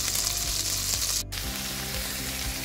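Wild mushrooms fry in melted butter in a pan, a loud, close sizzle with repeated scraping stirs and a brief break midway before the crackling resumes.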